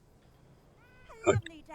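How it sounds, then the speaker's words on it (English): A hidden black cat in the Lord of the Rings Online video game gives a single short meow that rises out of quiet ambient game background, close and clear. "There's a hidden black cat."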